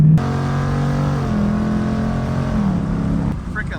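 A Ford Mustang GT running on E85 pulls hard at night, its engine note droning and climbing steadily from inside the cabin before easing off near the end.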